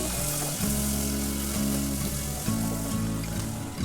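Chopped onion frying in oil with cinnamon, cardamom and cloves for a shrimp and mung dal khichuri, a steady close sizzle under a loud droning background tone.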